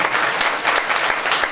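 Dense, sustained clapping from an audience at a religious speech and unveiling ceremony fills the room evenly, loud and close, with no voices standing out.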